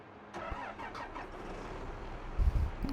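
A tractor engine cranks and turns over in Farming Simulator 22, a short starter whir followed by a low rumbling idle that swells louder near the end, with no talking.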